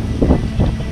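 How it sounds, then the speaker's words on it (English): Wind blowing outdoors at a vineyard campsite, a steady low rumble of gusts buffeting the microphone with swells throughout, loud and close with no talking. "I just want to show y'all the wind."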